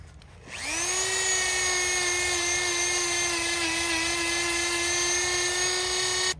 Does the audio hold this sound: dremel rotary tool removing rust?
yes